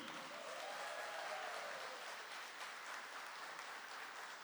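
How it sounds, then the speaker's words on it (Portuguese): An audience at a Catholic gathering applauds for Monsignor Jonas Abib, a soft, even wash of many hands clapping at a distance, steady throughout. "Uma salva de palmas para Monsenhor Jonas Abib"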